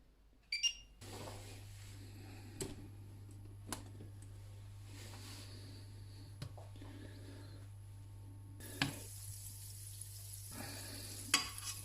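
Fat warms in a small frying pan with a faint, low sizzle over a steady hum, broken by a few soft clinks and stirs in a quiet kitchen.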